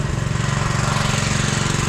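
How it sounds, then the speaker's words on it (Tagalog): A gasoline grass cutter runs steadily on a farm plot, its two-stroke engine buzzing loud and close with a fast, even rhythmic pulse throughout. "Dalawang grass cutter."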